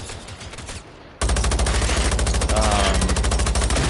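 Twin heavy machine guns firing in the video game Generation Zero: a steady, rapid stream of loud, dense automatic fire that starts after a quieter first second, with a faint voice underneath.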